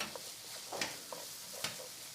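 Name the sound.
sofrito frying with vegetables in a pan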